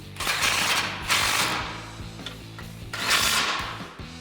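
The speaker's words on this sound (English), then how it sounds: "Then with your 17mm socket, tighten it down." A hand ratchet with a 17mm socket clicks rapidly in repeated bursts while tightening a bolt on a 2005-2021 Toyota Tacoma suspension lift kit, close up with brief pauses between strokes.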